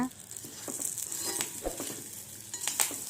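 Taro root sautéing with turmeric and curry leaves in a pan, a quiet sizzle broken up by scattered scrapes and light clicks of a spoon stirring, close and with no speech.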